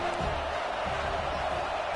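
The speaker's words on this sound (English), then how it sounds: "Third down and the crowd really getting into it" A football stadium crowd roars on a third-down play in a Wisconsin college football game, a dense, loud, sustained wash of cheering and shouting with no breaks.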